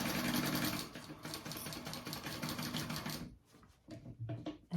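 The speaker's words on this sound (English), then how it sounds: "Still sewing that 1/2 inch." A sewing machine stitches a half-inch seam on a fabric bag, its fast steady needle chatter running loud and close for about three seconds, then stopping and giving way to softer handling noises and brief bursts.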